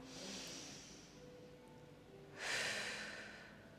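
A person breathing during a chair and mat yoga session, one slow soft breath followed by a louder, airy exhale, close and quiet with no talking.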